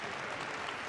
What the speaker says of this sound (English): Give Philip a big round of applause, folks.